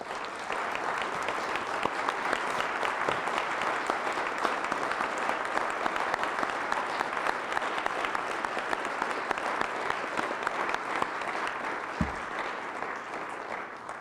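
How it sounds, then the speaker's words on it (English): Sustained round of applause at a government environmental committee awards session, a broad, even wash of many hands clapping for nominees, holding steady for the full stretch with no talk over it. "I invite everyone to join me in a round of applause for their outstanding contributions"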